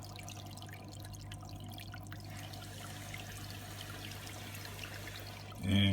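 Air bubbles quietly through water in a sand underwater waterfall aquarium, a soft continuous trickling and dripping that swells into a louder gush right at the end.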